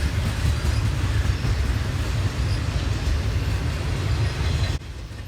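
A Norfolk Southern intermodal freight train rolls past on the Pittsburgh Line at Cresson on a hot July day, a loud, steady rumble of wheels and cars that holds close and continuous, then drops off abruptly near the end.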